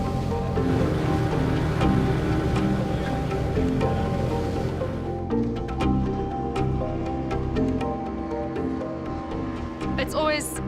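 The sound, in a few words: ocean waves crashing against the Cape Peninsula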